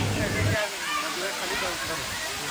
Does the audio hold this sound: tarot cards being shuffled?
no